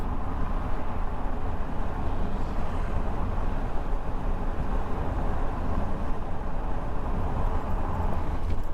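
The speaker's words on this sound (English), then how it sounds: "Again, sorry for the window noise." Constant buffeting wind roar through an RV window over a low road rumble, broad and unbroken for the whole stretch.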